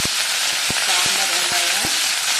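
Dried red chillies and curry leaves fry in oil for a brinjal kadayal tempering, a loud dense hiss with a few sharp crackles, a faint voice under it.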